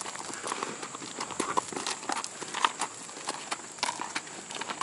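A Standardbred gelding from New Zealand clip-clops along on hard ground, its hooves striking in a brisk, even rhythm close by, and no voices break in.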